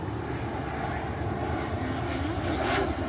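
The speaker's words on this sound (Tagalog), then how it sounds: "Yan, may airplano." A fixed-wing airplane passing overhead in Washington, D.C., a steady broad engine roar that swells slightly toward the end, with faint voices around it.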